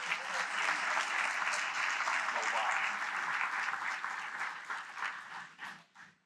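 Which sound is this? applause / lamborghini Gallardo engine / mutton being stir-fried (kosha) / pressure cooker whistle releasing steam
applause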